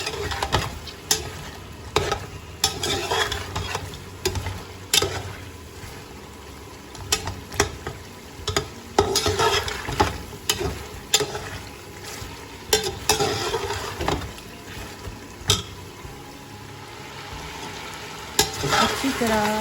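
Mutton pieces fry in a pan for namkeen gosht, stirred steadily: a continuous sizzle broken by repeated clattering scrapes of the spoon against the pan, fairly close and without talk.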